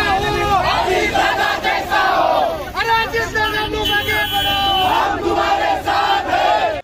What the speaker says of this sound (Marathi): बदलापुरात अजित पवार गटाच्या पदाधिकाऱ्यांनी जल्लोष केला